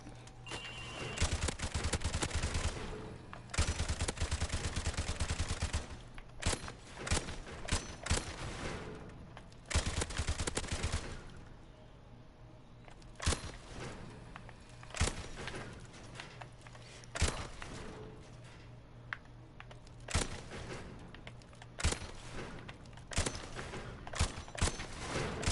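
Repeated gunfire at a firing range in Modern Warfare, loud bursts of automatic fire with short pauses between volleys and occasional single shots, continuing throughout with no talk.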